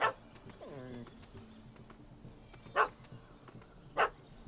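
A dog barking in The Witcher 3 game: a short yelp near the start, then two sharp, loud barks spaced about a second apart over a faint ambient game soundscape with some birdlike chirps.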